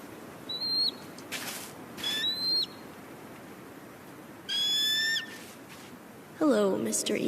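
Eagle beating its wings in the video game Tell Me Why: several short bursts of flapping, near and fairly loud, spread over a few seconds, with sparse bird-like chirps between them.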